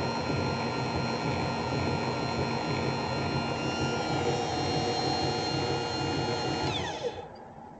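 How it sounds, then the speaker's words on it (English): A motorized Z-axis lift on a PM25MV benchtop mill, geared with Briggs & Stratton lawnmower flywheel starter gears, whines steadily and loudly up close, running continuously before winding down and stopping near the end. "we'll hit the up button and we're going up."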